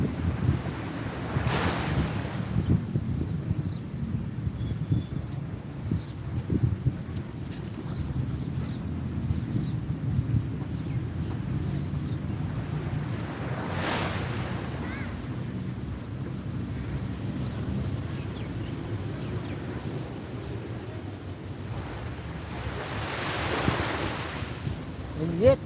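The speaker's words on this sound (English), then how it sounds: "And the sea is still coming in perfectly." Sea waves rolling in at Grand Baie, a steady low wash of surf with wind buffeting the microphone and a few louder gusts rising and falling over the long stretch.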